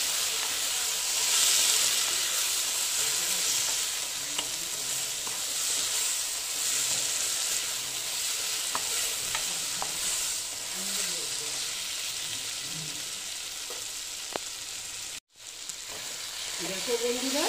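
Ridge gourd and poppy seed curry being stirred in a pan, giving a steady close sizzle and frying hiss with intermittent scraping, then a brief dropout near the end.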